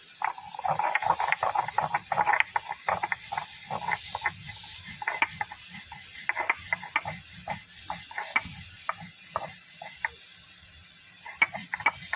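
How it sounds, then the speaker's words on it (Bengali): Black cumin seeds being ground by hand, a busy run of rapid scraping and grinding clicks that comes in uneven bursts and continues for several seconds, close up with no talking. "এবার কালো জিরাটাকে আমি বেটে নেব।"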